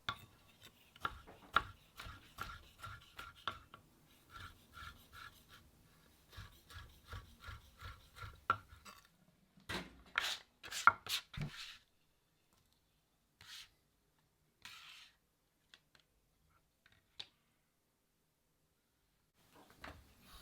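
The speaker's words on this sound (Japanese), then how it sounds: "その後ブルノワーズに切っていきます。" A kitchen knife dices tomato into fine brunoise on a cutting board, with quiet, quick, evenly spaced taps for several seconds, then a few louder knocks and sparse scattered taps separated by silence.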